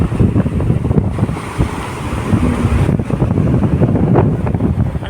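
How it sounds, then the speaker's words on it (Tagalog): Strong wind roars and buffets the microphone over the heavy, continuous wash of big waves, loud and close, with no talking. "Grabe ang alon. Mahangin guys."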